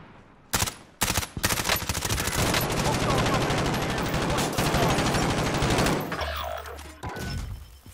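Bursts of Call of Duty gunfire crack out loud and close, with heavy sustained firing filling most of the stretch before tapering off near the end; voices are faintly mixed in.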